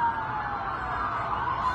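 Emergency vehicles wail with sirens below a burning building, a steady high tone sounding somewhat distant and moderately loud over a low rumble of background noise.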